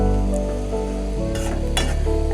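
Bottle gourd and chickpea fry stirred in a hot pan, with a continuous sizzle under a low hum and a couple of sharp scraping strokes of the spatula near the end.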